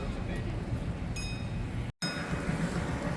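A zoo park train ride runs with a low continuous rumble and clatter, faint high squeals from the wheels or rails, and a brief dropout midway, heard at moderate distance with no talk.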